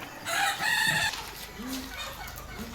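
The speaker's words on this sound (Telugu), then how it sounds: "సో గైస్ ఇక్కడ చూసుకోవచ్చు మన ప్యూర్ నాటి కోళ్ళు" A rooster crows loudly nearby, followed by softer clucking from several native country chickens.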